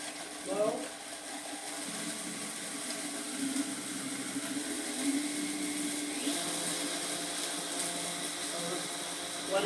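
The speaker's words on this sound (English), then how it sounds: "go ahead and get it on the blender or the Vitamix. Start off slow." Vitamix blender starting slowly as it grinds dried onion pieces into powder, a steady whirring motor drone with rattling, continuous and close throughout.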